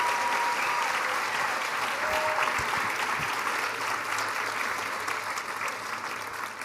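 A theater audience at a psychedelics talk at the Boulder Theater gives sustained, dense applause, loud and steady throughout, fading only slightly at the end.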